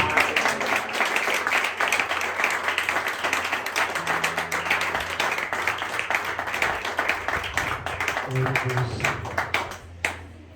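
Church congregation clapping during a family worship service, a dense sustained applause of many hands filling the room, fading out near the end.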